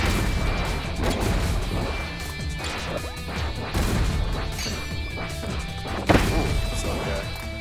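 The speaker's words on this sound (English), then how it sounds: "just place a bomb in the right spot" Bomb blasts and hits in the Kirby Fighters 2 fighting game, a run of loud crashing impacts and whacks over busy game music, with a sharp burst near the end.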